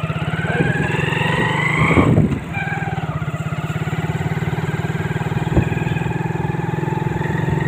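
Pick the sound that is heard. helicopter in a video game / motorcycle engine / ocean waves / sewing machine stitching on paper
motorcycle engine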